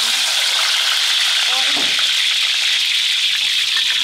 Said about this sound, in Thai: พอเสร็จแล้วก็ไปเตรียมผัดเลยไปทอดด้วงก่อน